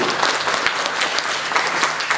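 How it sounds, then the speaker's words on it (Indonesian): An audience at an Indonesian gathering claps in a steady, dense burst of applause that continues evenly throughout without pause. "Ini tepuk tangan untuk beliau."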